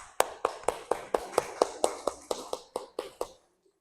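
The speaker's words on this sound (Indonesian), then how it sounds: "Berikan tepuk tangan." Classroom applause: about fourteen crisp, evenly spaced claps in a steady rhythm, close and fairly loud, then stopping abruptly into near silence.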